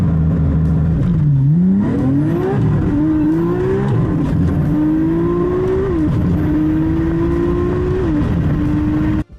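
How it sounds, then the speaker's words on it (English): Nissan Skyline with an RB engine and dual-clutch transmission doing a launch-control start, a loud close engine note climbing through several quick upshifts, each marked by a brief dip before the revs rise again, then cutting off abruptly at the end. "What you just saw there was a supercar-style launch control being used in a DCT-equipped Skyline."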